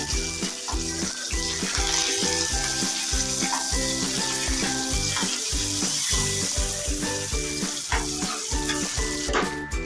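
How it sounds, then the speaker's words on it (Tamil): Mustard seeds, urad dal, three dried red chillies and curry leaves sizzle and crackle loudly in hot oil for a chutney tempering, a dense continuous hiss with rapid popping throughout. "கடுகு பொரியும் போதே 3 காஞ்ச மிளகாய், கருவேப்பிலை சேர்த்துக்கோங்க."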